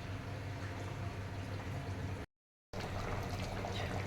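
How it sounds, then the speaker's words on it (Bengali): Curry with potatoes and eggs simmers in a pot, giving a steady, close bubbling wash of noise that cuts out briefly partway through before resuming just as dense. "তরকারিটা একটু ফুটে যায়"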